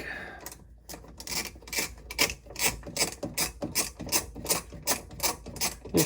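A ratchet wrench tightens a part on a 2024 Ford F-250 diesel during an oil change, giving a steady run of sharp, close clicks in an even rhythm for about six seconds.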